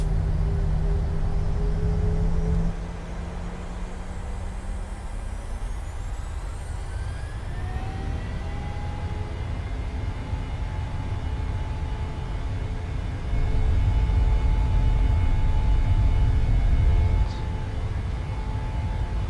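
A Boeing 737 taking off from Chicago O'Hare in a flight simulator game, a loud steady jet engine roar that swells as thrust builds, with a rising whine, heard alone without talk.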